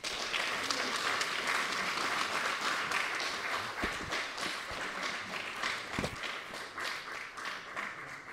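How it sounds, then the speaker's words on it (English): An audience applauds steadily after a speech paying tribute to Magufuli, a dense, sustained wash of many clapping hands at close range that stays loud throughout and tapers slightly toward the end. "let us give him another round of applause"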